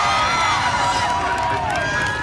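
Dense crowd murmur and overlapping shouts from spectators watching the Space Shuttle Challenger launch, loud and continuous outdoors, with whistling tones drifting through the noise.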